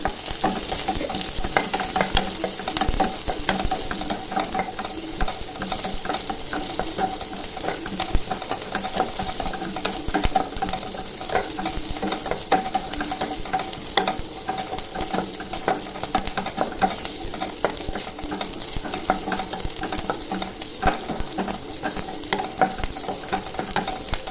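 Cinnamon, cloves, garlic, onion, fennel and curry leaves fry in hot oil in a pan for a tomato kurma, giving a continuous loud, crackling sizzle with steady stirring and no talk.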